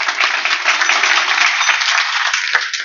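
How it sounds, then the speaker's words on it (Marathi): Loud, dense audience applause at a Marathi kirtan-bharud performance, sustained crowd clapping for young cymbal players, close and continuous for the whole stretch. "माझ्या तरुण टाळकऱ्यांसाठी एकदा टाळ्या वाजवा"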